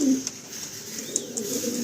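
Andhra pigeons at a Kolkata loft give a short low coo at the start, followed by faint murmuring and light background clicks.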